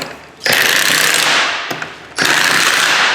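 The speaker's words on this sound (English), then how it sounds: "Is that a torque wrench?" A torque wrench tightening bolts on a differential build, heard as a loud, close, dense mechanical rattling burst repeated in three bursts with short breaks.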